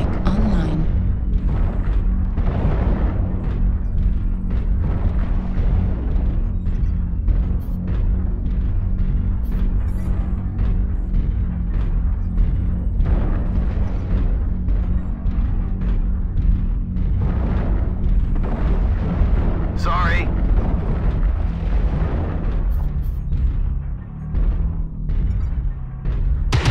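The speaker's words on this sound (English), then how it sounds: "Airstrike activated." Airstrike explosions in the MechWarrior Online battle game: a dense, continuous roar of heavy booms and blasts, loud and unbroken, with rumbling impacts layered over each other.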